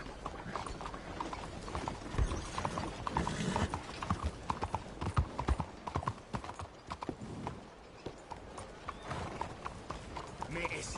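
Horse hooves clip-clop steadily in Red Dead Redemption 2, a fast rhythmic trot with an occasional whinny, under game speech and voices.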